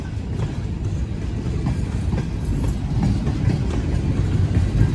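A northbound freight train rolls steadily past, with a tanker car in the consist, giving a loud, continuous rumble with faint rhythmic wheel clatter and no voices over it.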